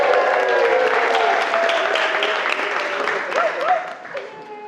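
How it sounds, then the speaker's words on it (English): Wedding guests at Lulworth Castle break into applause for the flower girl and page boy, a full steady round of clapping that gradually thins, with voices and murmurs mixed in toward the end. "I was going to ask for a round of applause, but you beat me to it."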